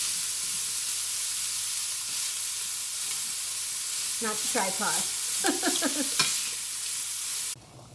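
Sausage frying in a pan while a fork breaks it up, giving a steady close sizzle with a few sharper scraping bursts of the fork toward the end.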